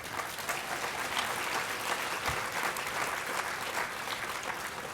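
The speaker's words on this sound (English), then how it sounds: "You should reserve that applause for the mayor" Steady audience applause fills a conference hall before a keynote address by the New York City mayor, dense and even throughout with no voices standing out.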